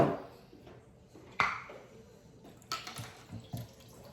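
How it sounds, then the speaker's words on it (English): Liquid pours and splashes as two jars of cherries are drained, a few sloshing bursts and drips close by in a quiet kitchen. "I'm going to drain the cherries."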